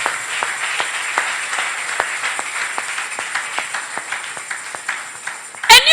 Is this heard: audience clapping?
yes